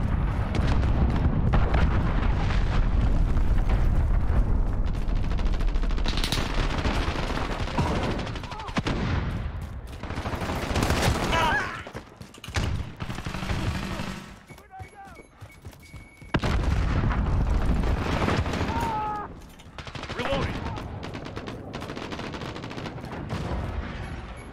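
In a Modern Warfare multiplayer match, an allied cruise missile strike lands with heavy, rumbling explosions amid sustained close gunfire, then drops back to scattered shots before another loud blast.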